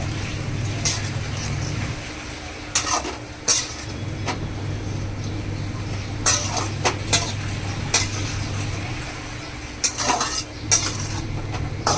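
A spoon clatters and scrapes against a pan as vegetables with peanut powder are stirred. The clinks come in irregular bursts over a steady low rumble.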